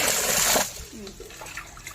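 Water sloshes and splashes as grains are washed in a vessel, a burst of washing at first, then quieter swirling and dribbling.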